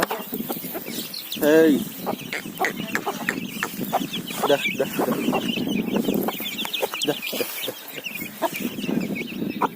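Aseel chickens cluck and a rooster calls briefly near the start, with scattered clucks continuing nearby over soft talking.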